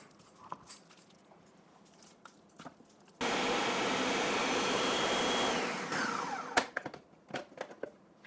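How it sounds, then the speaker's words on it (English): A Ninja blender motor suddenly roars to life blending pumpkin, runs loud and steady for a few seconds, then winds down amid scattered clatter. "Now let me get out my Ninja blender"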